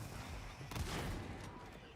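A pox burster goes off in a video game, a quiet, fairly distant blast with a sharp crackling onset and a brief rumbling tail under busy game noise.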